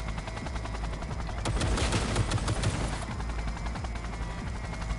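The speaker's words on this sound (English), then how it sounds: "these guys can take a lot of shots from a Gatling gun" Sustained rapid gunfire from a Gatling gun in Cyberpunk 2077, a dense continuous roar that swells louder in the middle and then settles back to a steady chattering burst, with no talk over it.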